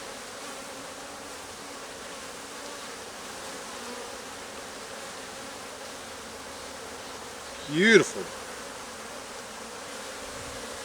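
Honey bees buzz around an open hive frame of capped brood, a steady swarm hum running the whole time, with a brief voice rising over it near the end.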